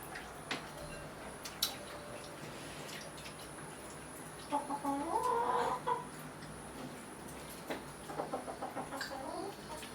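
Hungry chickens clucking nearby, several short bursts of clucks around the middle and near the end, over a faint steady background with occasional clicks.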